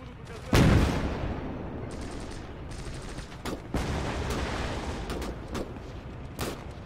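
Gates of Hell battle with a heavy boom up front, then steady rattling gunfire and scattered sharp shots over a dense, rumbling background.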